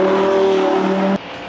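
An expensive imported convertible sports car with 600 horsepower, reaching 100 km/h in 4.1 seconds, accelerates with a loud, tonal engine note for just over a second before cutting off abruptly.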